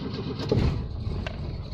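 A car engine catches and fires up, a short burst of engine noise followed by a low running rumble.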